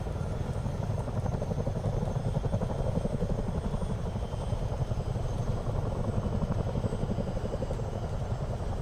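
Chinook tandem-rotor helicopter in Microsoft Flight Simulator 2024, a steady loud rotor thump and engine drone continuing unbroken throughout, no voices.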